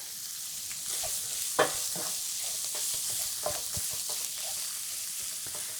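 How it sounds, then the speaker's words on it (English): Seasoned pork stuffing mixture sizzles steadily in a hot pan while a spoon stirs it, with scraping knocks from the utensil rising over the continuous frying hiss. "what we want to do now is cook out the pork fully"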